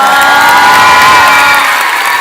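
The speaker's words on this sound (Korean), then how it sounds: "용기를 내주신 선생님들한테 다시 한번 큰 박수 부탁드립니다" A school audience at a middle school festival performance cheers and shouts loudly for teachers, a dense steady roar of young voices with some applause that fades slightly toward the end.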